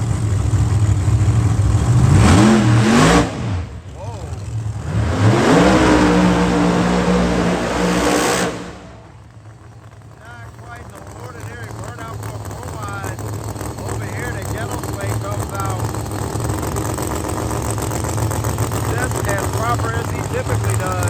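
A Pro Mod PLR Camaro drag car engine at an IHRA Pro Mod Nationals event revs loudly in bursts and then drops to a rough, lower rumble, with crowd and announcer noise mixed in.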